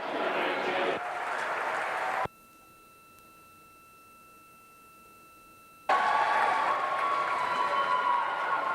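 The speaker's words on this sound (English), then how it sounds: "You're hearing the cheers from Mission Control there" Cheers and clapping in Mission Control as the Artemis II crew leave the Orion capsule after splashdown: a broad crowd roar that drops out for a few seconds to near-silence and a thin steady tone, then returns loud.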